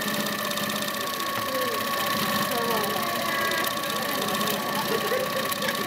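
HQ Sweet Sixteen sit-down quilting machine stitching free-motion swirls, a fast steady mechanical whir and needle chatter running continuously while people talk over it.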